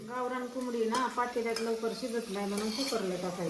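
Onions sizzle and hiss in a hot pan on a gas stove while being stirred for a country chicken curry, under a steady voice that carries on throughout.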